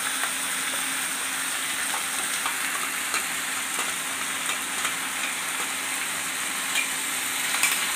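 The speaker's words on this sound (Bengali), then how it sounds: "এই মশলাটা একটু কষিয়ে নিব" Raw ground spice paste fries in a pan for a potato, plantain and pointed gourd curry, making a dense, continuous hiss with faint crackles and occasional light scrapes throughout, and no voices.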